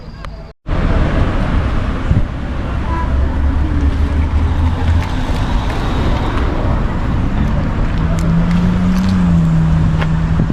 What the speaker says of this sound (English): Pure traffic.